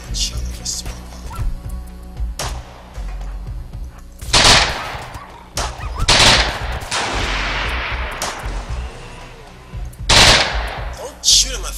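Bursts of rapid automatic gunfire in a multiplayer video game, several loud volleys at intervals with lighter shots between, under a steady game background.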